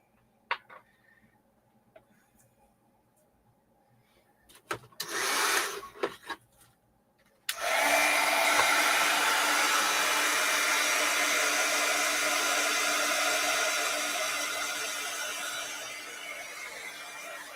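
A hair dryer blows on a freshly made craft project, a steady, loud whooshing hiss that kicks in after a few seconds of quiet handling and rustling, then continues unbroken to the end.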